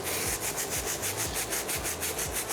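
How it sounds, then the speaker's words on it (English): A detailed wire-tip bristle brush scrubs back and forth across the grooves of a sneaker sole in steady rhythmic strokes, close and harsh, with no voices. "I'm gonna go back in there with the detailed wire tip bristle brush. Dip that in there. Just go across the groove."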